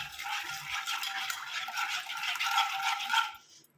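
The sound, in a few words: stirring coffee powder into water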